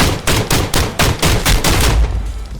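Rapid series of loud, punchy shotgun blasts from a weapon in the game Contractors Showdown, about nine evenly spaced shots close up, each sharp with a short tail, alone without talk.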